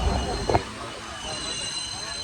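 Low rumble of a train halted at Gangakhed station with a brief clank early on, then a steady hum with a faint high squeal.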